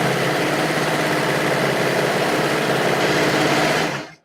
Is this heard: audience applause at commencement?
no